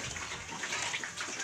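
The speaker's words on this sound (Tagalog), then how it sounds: "Lagyan natin ng konting tubig." Water pours steadily into a mix of corn bran and dried moringa leaves being made as feed for native pigs, a continuous soft splashing gush, fairly faint and with no talking.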